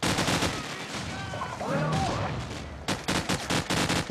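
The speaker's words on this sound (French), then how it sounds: "Mick qui tire dans tous les sens" Dense, continuous gunfire in a competitive first-person shooter game, loud rattling bursts that pause briefly and then resume, with faint speech mixed in.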